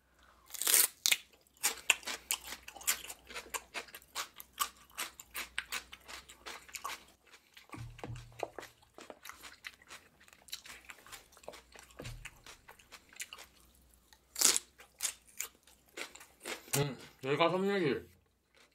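Crunchy raw celery is chewed close to the microphone in repeated loud, crisp bites and crunches. Quieter gaps fall between bursts, and speech can be heard at times.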